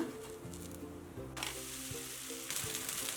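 Onion dosa with a little ghee cooking on a pan over a medium flame gives a steady, close sizzle and fry, with low scraping or pressing noises underneath.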